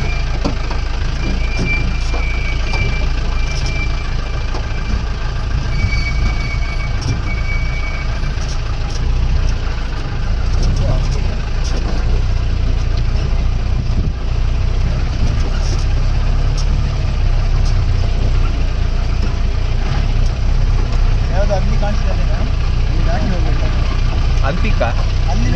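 A jeep engine drones loudly and steadily on a hill road up into the Pushpagiri hills of Kodagu, a continuous low rumble with faint voices in the background.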